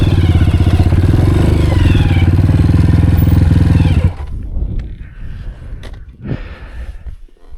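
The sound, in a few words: Honda CRF 230F dirt bike engine idling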